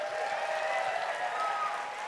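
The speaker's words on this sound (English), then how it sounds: "Let's give all of our stars one more round of applause." Audience applause for performers at a ballroom dance event, a steady wash of clapping throughout, fairly close and dense, with no talk over it.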